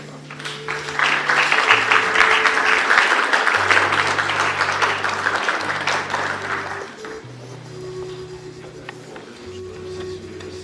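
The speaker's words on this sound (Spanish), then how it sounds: "Por favor, un aplauso para él" An audience at a philosophy lecture applauds a speaker being introduced, a full round of clapping that swells, holds for several seconds, then fades out beneath a steady hum.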